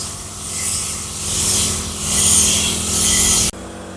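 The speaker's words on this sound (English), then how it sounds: "You can change the spray pattern like that, and you can be able to spray" A steady, hissing spray from a petrol-powered 50-litre trolley farm sprayer rushes continuously, swelling and fading in rhythm, over a motor's low hum, then abruptly drops to a quieter drone.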